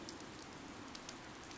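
Steady rain from the video game Fire Emblem: Three Houses, a soft, even wash of falling drops that holds at a low level throughout, with no voices over it.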